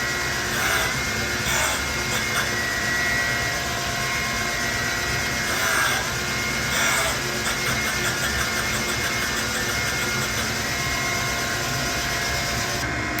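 Steady grinding on a cap from a Jeep Dauntless V6 engine block, a harsh broadband machine whine running continuously at close range, with brief louder surges from the abrasive contact and no talking.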